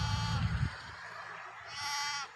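Goats on a farm field where sugarcane is being weeded bleat in two drawn-out calls, one short and low, then a higher, longer cry, fairly close and alone.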